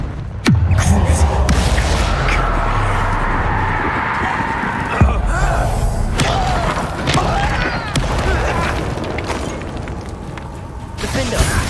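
A Confringo fire spell in Hogwarts Legacy is cast and bursts with a booming blast, then crackling and rumbling combat noise runs on loudly under a spoken incantation and game voices.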